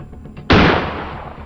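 A single loud gunshot fires in the horror video game Granny, a sharp blast followed by a decaying echo tail, standing alone without talk.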